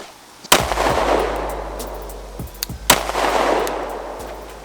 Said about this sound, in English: another shot here, another shot low